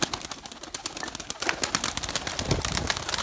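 Pet flying pigeons fill their loft with cooing and busy fluttering, a cluster of sharp wing claps and scuffles rising toward the end, close and lively with no speech.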